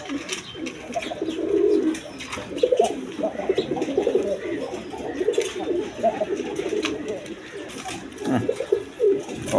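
Giribaz pigeons coo in low, throaty bursts throughout, fairly close, with some faint background noise and possible brief voice.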